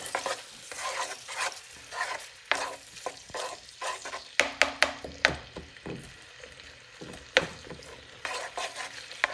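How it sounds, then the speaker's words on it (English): Tomato sauce with fresh thyme and oregano stirred in a pan, a series of close, sharp wooden scrapes and knocks over a low sizzle, irregular and fairly loud, with no talking. "I'm going to add the thyme and the oregano. I'm going to stir things a little bit."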